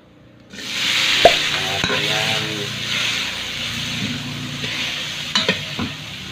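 Garlic shrimp with oyster sauce sizzles steadily in a hot pan while being stirred, with broadband frying hiss throughout, a few sharp spatula clinks, and brief faint voice fragments in the background.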